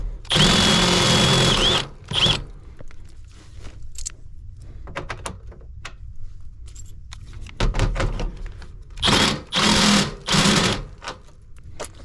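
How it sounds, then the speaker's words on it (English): A small power drill whines in short, loud bursts drilling a hole during an air conditioner install, a long one first and then a couple more, with quiet clicks and handling noise in the pauses. "Use this little drill to drill my hole"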